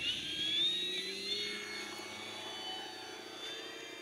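A P-51 Mustang RC model airplane on its maiden flight, its engine whining and droning steadily overhead with a shifting, Doppler-like pitch, fairly loud and continuous throughout.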